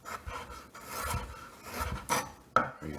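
A kitchen knife slices food on a cutting board, each cut a short rasping stroke followed by a board tap, heard close up in an uneven rhythm with no talk.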